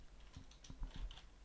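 Quick typing on a computer keyboard, a short run of about half a dozen soft, close key taps in an irregular rhythm over faint background hum.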